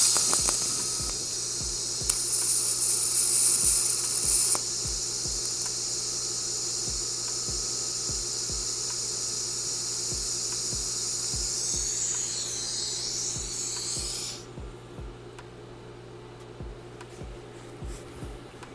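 Tack welding gun parts to a steel tube for a CETME C rifle build, a steady buzzing hiss with a string of short crackling pops, fairly close, ending in quieter background hum.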